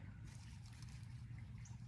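Water trickles and splashes steadily onto soil while a perennial salvia plant is watered outdoors, a soft continuous pour with no talking.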